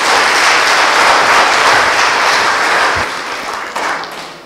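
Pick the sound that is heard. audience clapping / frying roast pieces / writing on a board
audience clapping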